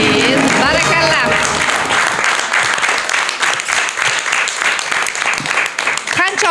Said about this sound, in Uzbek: Qancha olqishlasak ham arziydi.